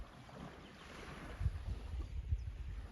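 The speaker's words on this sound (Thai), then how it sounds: "ทุกคนได้ยินเสียงทะเลใช่ไหมจ๊ะ" Sea waves washing on a beach, a steady low rumble with wind buffeting the microphone, a couple of heavier surges partway through.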